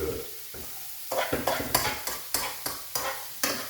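Chopped celery sizzles in a frying pan as a utensil stirs it in repeated, rhythmic scraping strokes, each stroke stirring up a burst of frying noise, close and fairly loud.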